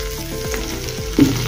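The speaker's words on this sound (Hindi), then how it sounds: "अब इसमें हम हरी मिर्च डालेंगे, थोड़ा सा कड़ी पत्ता डालेंगे," Green chillies and curry leaves hit hot oil with a sharp, close sizzle that crackles steadily, swelling briefly louder near the end, with no voices.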